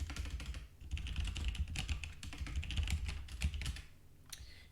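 Fingers typing code on a computer keyboard, a quick continuous patter of clicky keystrokes with brief pauses, close and fairly quiet, no voices.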